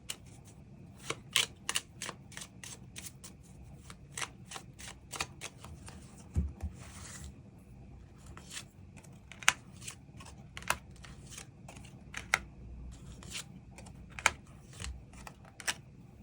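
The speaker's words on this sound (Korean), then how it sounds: "추가 카드로 앞으로 우리 두 사람의 만남의 흐름과 또 필요한 조언의 카드 무엇이 있을지 추가 카드 뽑아보도록" Tarot cards are shuffled and drawn in a quiet room as a series of crisp, close riffling snaps and light slaps arriving in uneven bursts, with short soft rustles between them and no talk.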